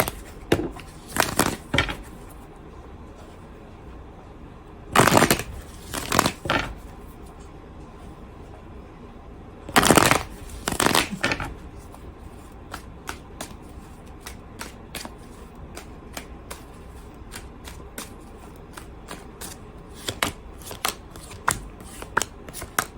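Tarot cards being shuffled by hand, with several loud riffling bursts spaced several seconds apart and quieter taps and flicks between them, close and without talking.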